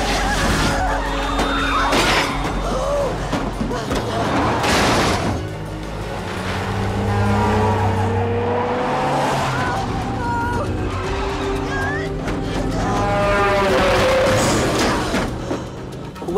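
A speeding van in a film stunt sequence, with tires skidding and squealing loudly and engines roaring, along with clattering impacts and a voice talking over the action.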